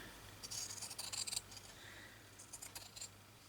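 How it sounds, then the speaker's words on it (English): Scissors cut a thin strip of fabric during hand stitching, a few quiet snipping and rubbing sounds in two short bursts, close and soft against a faint hum. "Isn't it good when your scissors work?"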